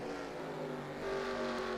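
Race car number 42 at the Powerade 500, its engine running rough and sour, a steady droning note with a slight rise in loudness, faint and distant.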